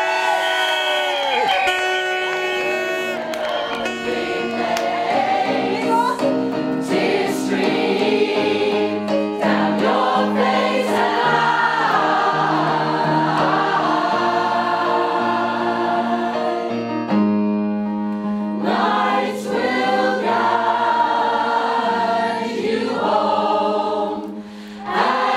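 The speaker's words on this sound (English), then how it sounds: "Big cheer for Chorley, South Ribble." A crowd at a rally to save Chorley's A&E, joined by bikers and choirs, cheers and shouts steadily for about twenty-five seconds, loud and close, with music or singing woven through the noise.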